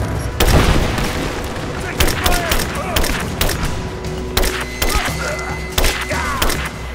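Gunfire in the video game Rise of the Tomb Raider: repeated sharp shots and booms spread through the scene, loud and close, with in-game voices shouting over the combat.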